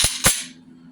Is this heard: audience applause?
no